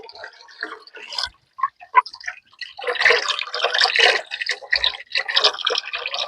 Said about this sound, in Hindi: तो इस तरह से पानी जो है हम ऐड कर रहे हैं।